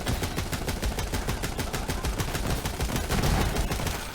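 Shotgun fire from the video game Borderlands 3 rattles in rapid repeated blasts, a loud, dense burst of shots that continues for several seconds without pause.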